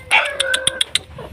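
Pet dog giving a short burst of yappy, howl-like barks, several sharp high yips in quick succession close by, with a faint voice at the end.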